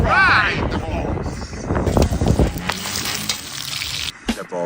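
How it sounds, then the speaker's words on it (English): Balls of food sizzle and fry in a pan amid stirring and scraping, a loud, steady crackle that runs under people talking and shouting nearby. "Now you want to fry the balls."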